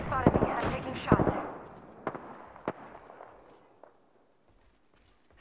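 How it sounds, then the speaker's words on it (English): Gunfire in Apex Legends, several sharp shots at uneven intervals, a loud cluster at the start followed by scattered single cracks that fade toward the end, with faint game effects in between. "Shots fired and they're hitting me"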